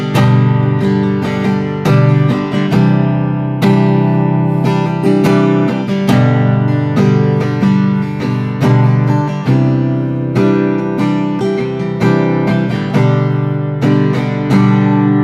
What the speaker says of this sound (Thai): นี่เป็นเสียงกีตาร์โปร่งธรรมดาเลยนะครับ